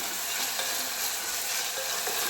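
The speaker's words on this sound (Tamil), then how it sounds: "அதோடைய 2 பச்சை மிளகாய், இது நல்லா ஃப்ரை ஆகட்டும்." Two green chillies fry in hot oil in a pan while being stirred, giving a steady close sizzle with faint scraping and no talking.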